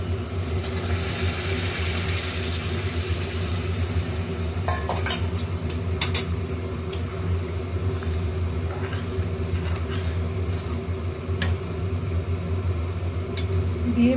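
Hot water hits frying masala in a pan for egg curry, raising a steady loud sizzle and bubbling hiss with a few sharp clinks of a utensil against the pot.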